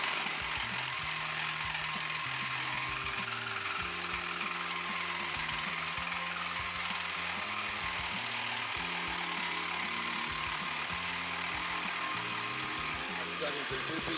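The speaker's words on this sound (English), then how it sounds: "I have just started getting this saw running here" A power saw fitted with a Diablo blade runs steadily, set to cut 3/16 and 10-gauge steel, giving a loud, continuous whirring roar with a low, wavering hum beneath it throughout.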